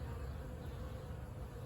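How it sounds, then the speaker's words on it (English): A honey bee swarm that has settled into old stored boxes makes a steady, dense buzzing hum close by, continuous and unbroken, with no voices. "it appears that a swarm may have moved in"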